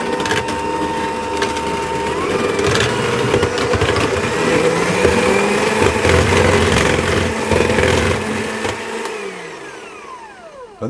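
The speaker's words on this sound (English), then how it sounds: "I'm going to pour in the chocolate and whisk that in" Melted chocolate and butter being whisked into brownie batter in a bowl, a continuous loud scraping, whirring churn that holds steady for about ten seconds before tailing off.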